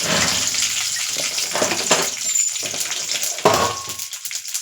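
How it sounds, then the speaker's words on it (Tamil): Mustard seeds and curry leaves hitting hot sesame oil give a steady, close sizzle with crackling spatter and some stirring, no voices. "நல்லெண்ணெய் ஊற்றிட்டேன், காஞ்சிருச்சு. கடுகு ஆட் பண்ண போகிறோம். கருவேப்பிலை போட்டேன்."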